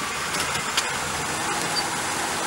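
Steady low engine hum of a 1997 Buick LeSabre Custom idling and creeping forward as it is driven up onto ramps, with continuous broadband noise and no voices.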